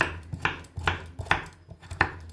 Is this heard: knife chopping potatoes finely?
yes